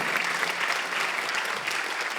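A church congregation applauds during a Sunday worship service, a dense, steady wash of clapping that holds at full volume from start to finish with no voices standing out.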